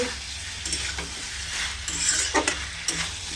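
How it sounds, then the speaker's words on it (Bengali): Spices frying in a pan sizzle steadily while a utensil stirs them, giving repeated scraping strokes close up over a continuous hiss. "ঢাকা তুলে নিয়েছি এবার নাড়ছি"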